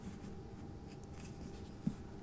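Pencil drawing on paper, recorded close on a sensitive mic: a soft, continuous scratchy graphite texture with faint strokes and one brief sharper tap near the end, no voices.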